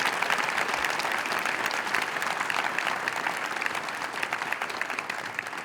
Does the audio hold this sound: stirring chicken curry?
no